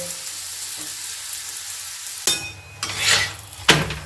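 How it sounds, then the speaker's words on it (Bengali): An aloo paratha fries quietly in a hot pan, then a soft faint sizzle jumps to loud bursts of crackling as the flatbread is flipped and pressed, with clatter from the pan and utensil. "উল্টে পাল্টে এভাবে ভেজে নেব।"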